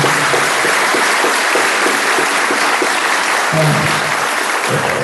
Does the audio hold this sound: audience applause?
yes